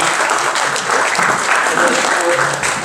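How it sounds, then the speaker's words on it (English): At an athletic hall of fame induction ceremony, a room full of guests gives a round of applause, steady dense clapping with faint voices rising underneath before it tapers. "Let's give them a round of applause"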